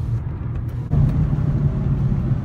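An Infiniti G37 fitted with ISR test pipes idles with a loud, raspy, low exhaust rumble close by, swelling slightly partway through before holding a steady throaty drone.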